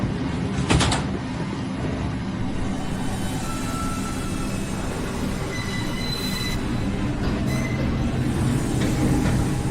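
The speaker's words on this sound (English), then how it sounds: "Downtown Express train approaching the station." A New York IRT subway train, an R142, rumbles and screeches along the rails into Brooklyn Bridge-City Hall station, with metallic squeals and clatter as it pulls in, loud and continuous throughout.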